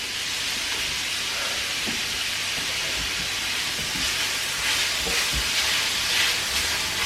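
Capsicum and other ingredients sauté in a hot pan for kangaroo chilli con carne, giving a steady, loud, close sizzle with faint occasional knocks of a utensil.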